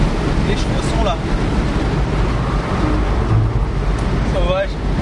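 A 228-horsepower Porsche Boxster 2.5 laps the Nordschleife, with steady wind and road roar broken by a couple of brief rising engine notes as it revs.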